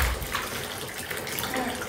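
Water gushes steadily from a tap into a bathtub during a power outage, a constant close rush with no pauses, under faint voices.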